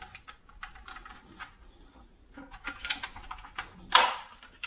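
Plastic parts of a Gtech AirRAM cordless vacuum are fitted together by hand. Light tapping and rattling handling sounds lead up to one sharp, close click near the end.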